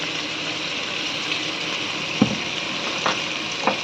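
Cut potatoes and pointed gourd fry in hot oil with nigella seeds, a steady close sizzle broken by a few sharper pops and stirring clatters.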